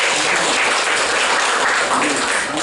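A seminar audience claps steadily, a dense and loud round of applause that continues throughout.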